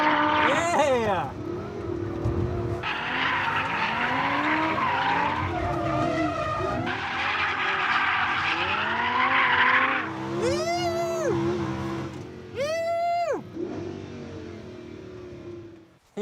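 Mad Mike's LB-WORKS Lamborghini Huracan drifting sideways at Goodwood Festival of Speed, a loud sustained engine roar with revving pitch sweeps and rising tire squeal, several sharp rev surges near the end and people talking over it.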